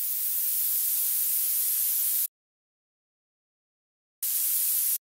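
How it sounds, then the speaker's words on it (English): A synthesized white noise downlifter hisses steadily while a resonant bandpass filter sweeps through it, then cuts to silence before returning briefly in a second burst. "A simple white noise down and uplifter is nothing else than sweeping down and up the filter."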